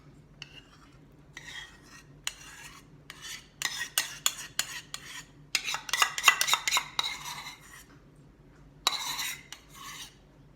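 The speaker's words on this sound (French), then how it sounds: "Je vais verser mes 200 g de compote." Apple compote going into a bowl for a homemade galette des rois, then scraped and mixed with a spatula: soft scraping and clinks in bursts of activity, close and fairly quiet, with no talking.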